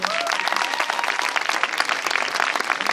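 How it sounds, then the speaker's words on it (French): Loud, sustained audience applause filling a French film-promotion stage event as an actor is welcomed, dense continuous clapping with some crowd noise throughout. "Un tonnerre d'applaudissements pour Petit Jean."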